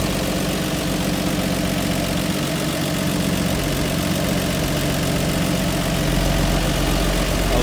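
The inline six engine with a two-barrel carb in a 1962 Ford Galaxie 500 convertible idles with a steady, loud, dense rumble that holds evenly throughout.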